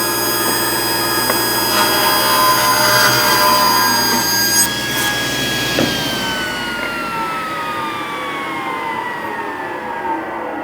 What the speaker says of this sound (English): I'm going to let it spin all the way down